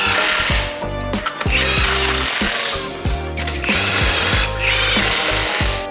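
A power tool fastens wheels onto the hubs of a wrecked Aston Martin DB11 during a rebuild, firing in repeated short whirring bursts with brief pauses between, loud and close.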